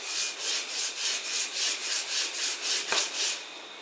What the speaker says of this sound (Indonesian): Jadi ini digosokkan ke amplas di atas kaca